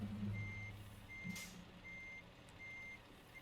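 Truck reversing beeps from Euro Truck Simulator 2, a steady series of four evenly spaced high electronic tones repeating over a low engine idle, with a brief air hiss in the middle and no talk.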